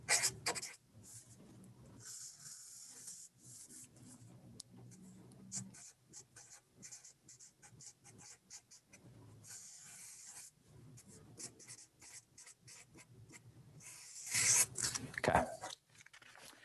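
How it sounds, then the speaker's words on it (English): Pen scratching across a surface while sketching a diagram, with intermittent strokes, short rubs and pauses, close and soft, ending in a louder burst of scribbling. "Let me just draw this out for you."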